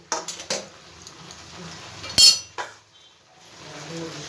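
A metal lid knocks and clinks onto a pan of mixed vegetable curry, with a few light taps, one sharp louder clank midway and a softer knock after, close and alone.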